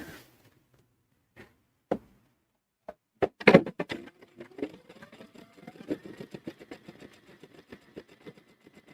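Sewing machine stitching along a fabric strip for a zipper bag, starting with a few isolated clicks and knocks, then settling into a fast, steady mechanical chatter up close.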